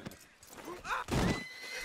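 Horse in Red Dead Redemption 2 letting out a loud, close whinny with a rising, wavering neigh, mixed with hoof clops and snorting, while a voice speaks briefly alongside.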